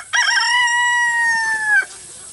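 A rooster on a homestead lets out a single loud, close crow with a stuttering start, a long sustained middle and an abrupt finish, followed by faint clucking from chickens nearby.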